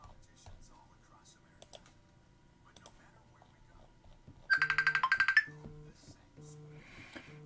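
A phone rings with an incoming call, one short burst of a rapid trilling ringtone followed by a repeating low electronic beep pattern, over faint background murmur and tapping.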